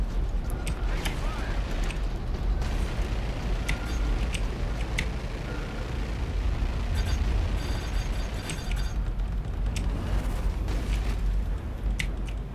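Missile explosions in Star Citizen Arena Commander space combat, a run of loud booming blasts with crackling debris, rising and falling over a dense rumbling background.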